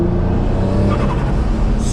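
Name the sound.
twin-turbo Nissan G35 coupe accelerating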